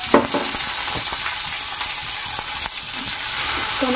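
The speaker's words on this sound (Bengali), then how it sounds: "টমেটোগুলোকেও একটু ভেজে নেব।" Chopped tomatoes frying with onions, chillies and garlic in a pan give a strong, continuous sizzle, with a few scraping stirs and light knocks and no one talking.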